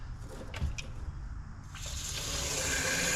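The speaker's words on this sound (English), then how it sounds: "I'm just gonna put some straight water in this thing" Plain water pouring into a Jeep TJ accessory container, a steady splashing rush that builds into a fuller, louder gush, close by with no talk.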